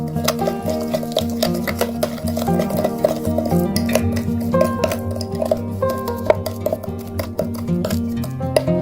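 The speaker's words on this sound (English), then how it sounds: "add a pinch of baking soda and mix well the ingredients" A spoon stirs milk and baking soda into a teeth-whitening paste in a small dish, giving soft repeated clinks and scrapes beneath steady background music.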